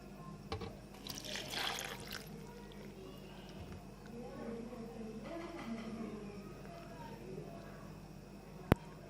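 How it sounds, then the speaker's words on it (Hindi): Water is poured into green chutney ingredients of green chillies, garlic, onion, coriander, mint and salt, a soft splashing trickle heard under a person talking. "और थोड़ा सा पानी डाल"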